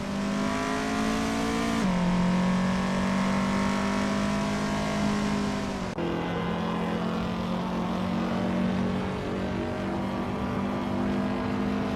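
A 1959 BMW 507 racing in a video game, its engine holding a steady loud drone with a clear pitch that drops sharply at two gear shifts, then climbs again, continuous and close with no talk.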